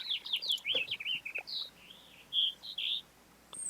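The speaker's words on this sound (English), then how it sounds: "Are those birds in your house?" Several birds chirp and trill just outside a window on a warm day, a quick run of bright, rising and falling calls followed by a few spaced, clear tweets, fairly close and with no talking.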